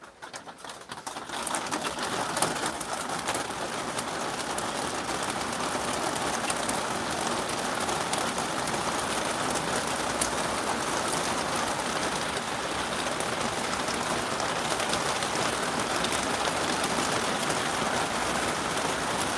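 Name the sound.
heavy rain falling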